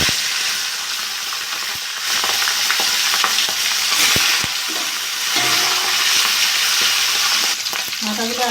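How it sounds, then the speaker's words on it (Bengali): Rohu fish heads fry in hot mustard oil in a heated kadai, a loud steady sizzle with occasional stirring scrapes and clicks throughout. "তেলটা গরম হয়ে গেছে, মাথাগুলো ভেজে নেব।"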